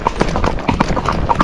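Hooves of a gaited Rocky Mountain horse clip-clop in a quick, uneven trotty rhythm, steady and fairly close throughout, with no voices.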